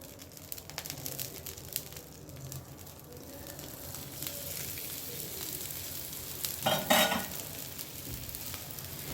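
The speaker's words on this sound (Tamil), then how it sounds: "இப்போது தோசைக்கல் சூடாயிடுச்சு லைட்டாக வந்து நான் ஆயில் அப்ளை பண்ணியிருக்கேன் இப்போது நம்ம வந்து இழைச்ச பராத்தாவை இதில் சேர்த்துக்கலாம்" A masala paratha fries on a hot dosa griddle brushed with oil, giving off a steady close sizzle that swells briefly near the end.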